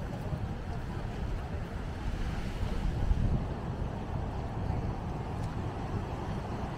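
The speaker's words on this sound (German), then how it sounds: "Ja, ganz schön Wellen." Steady rushing roar of surf at Maspalomas beach, Gran Canaria, with wind buffeting the microphone, continuous and fairly close, without distinct breaks between waves.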